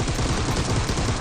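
Rapid automatic gunfire in the mobile battle-royale shooter Peacekeeper Elite, a steady rattle of repeated shots running throughout at a moderate distance, dense and continuous.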